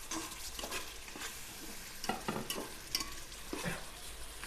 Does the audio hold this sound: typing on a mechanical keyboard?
no